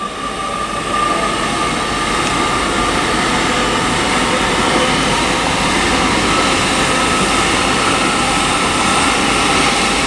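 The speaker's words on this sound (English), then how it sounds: "that's the 1354 Great Western Railway service to Worcester Shrub Hill" Great Western Railway Class 800 train, unit 800 319, departing Reading station on the Great Western Main Line as the 1354 service to Worcester Shrub Hill; a steady, loud rumble and hiss of the moving train fills the clip throughout.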